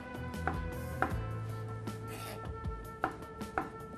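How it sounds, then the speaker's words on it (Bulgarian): A knife slices halved mushrooms into very thin strips on a board in a kitchen, giving a series of soft, irregular cutting taps at moderate distance. "Нарязваме на половина и след това ги нарязваме на много тънки ивички"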